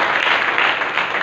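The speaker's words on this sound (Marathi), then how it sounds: "एकदा जोरदार टाळी वाजवत आहेत" Applause from an audience at a Marathi kirtan gathering, a dense, steady wash of clapping that fills the short moment without voices.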